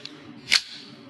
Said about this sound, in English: That's the sound of an M&P chambering its next round